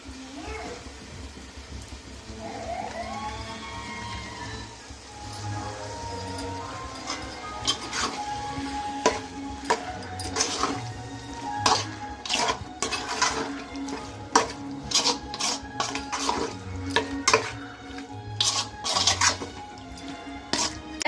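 Country chicken biryani masala is stirred in a pot, with a ladle knocking and scraping against the metal in a rapid, uneven run of close clatters, accompanied by steady sizzling and occasional speech.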